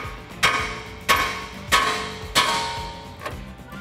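Metal hammer blows strike a tie rod end on a RAM 1500 pickup's front suspension to knock it free, four sharp ringing impacts spaced under a second apart and a fifth softer one, close and loud with no talking.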